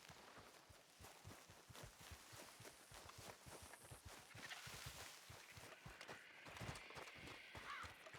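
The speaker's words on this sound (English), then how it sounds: "Hear horses." Horse hooves clip-clop steadily through a Red Dead roleplay game scene, a moderately loud run of regular hoofbeats lasting throughout, with faint ambient game sound behind and no talk.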